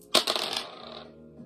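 Red and white dice tumble and clatter onto a hard surface, a sharp initial strike followed by a quick rattle of bounces that settles within about a second, with no talking.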